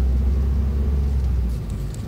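Car crawling in a traffic jam in Indonesia, a steady low engine rumble heard from inside, close and loud, easing slightly toward the end.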